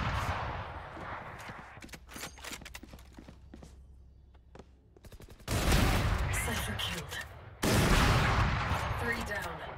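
Gunfire in the video game Valorant: rapid bursts of shots at first, then two long stretches of loud, dense, continuous firing that dominate the mix.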